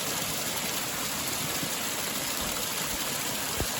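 Steady broadband rush of water flowing in a mountain stream along a hiking trail, constant and fairly close, with no voices.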